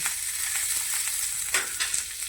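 Onion and garlic frying in a little oil while preparing a mutton curry, a steady close sizzle with a couple of brief stirring scrapes, no talking.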